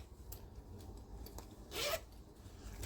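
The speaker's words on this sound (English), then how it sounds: "make sure all the zippers work" Zippers on a thrifted bag are pulled open and closed, with faint rasping zips and one louder, quicker zip partway through, close and otherwise quiet.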